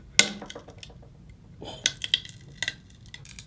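A glass screen protector is snapped and crushed inside a glass bowl, giving a sharp crack followed by a scatter of small clinks, crunches and tinkling shards, near and fairly loud.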